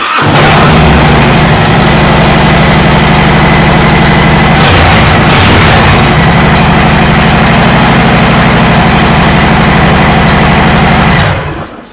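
A warmed-up motorcycle engine idles loudly and steadily with a low, throbbing rumble, briefly blipping the throttle midway before settling back to a constant run.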